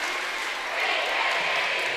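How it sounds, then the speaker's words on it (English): Borden student cheer block roaring at a high school basketball game, a steady broad crowd din of cheering and applause filling the whole moment, with an announcer's voice running over it. "You hear the Borden cheer block now going wild."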